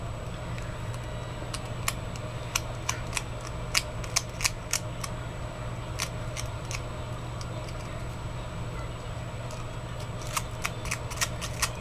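Scissors snip paper around a metal washer in a craft project, giving sharp, irregular clicks and cuts in short clusters over a low steady hum, with no talking.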